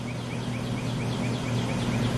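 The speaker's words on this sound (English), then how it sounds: "Bird's chirping and shit." An outdoor bird repeats a rhythmic series of short calls at a steady pace, moderately distant, over a constant loud hum and background noise, with no talking.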